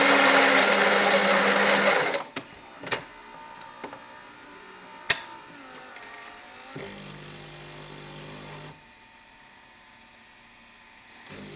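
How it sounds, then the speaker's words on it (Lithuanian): A Saeco Lirika coffee machine grinding beans for two cups: a loud whirring grind for about two seconds, then quiet clicks and a thump, and later a low humming stretch before it falls silent. "Bus 2 kartus sumalta kava ir į vieną ir į kitą puodelį pribėgs lygiai tiek pat kavos."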